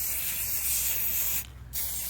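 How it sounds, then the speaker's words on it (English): Non-yellowing, UV-resistant sealant spray hisses steadily onto plastic in a close, continuous burst, breaks off briefly, then resumes. "So get it, shake it up, and then just spray a couple."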